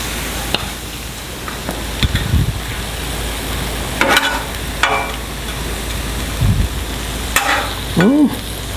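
Shrimp fried rice with soy sauce sizzles steadily in a pan, with intermittent scraping and stirring clatter of a utensil against the metal, close and fairly loud.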